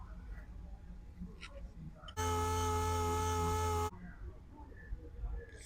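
A machine polisher or sander running on car paint with 3000-grit paper during paint correction and stone chip removal, a steady loud whir with a low hum that starts abruptly and stops after under two seconds, amid quiet background.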